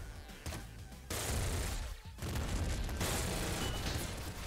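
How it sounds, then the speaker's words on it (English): A weapon fires in the Nuclear Throne video game as dense, rapid bursts of gunfire with booming impacts, loud and continuous after a brief pause, with a short dip in the middle. "I love this weapon's firing."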